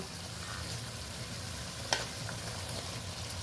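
Stuffed pointed gourds (potol) slowly frying in spiced masala and oil, giving a steady soft sizzle with a single brief clink near the middle.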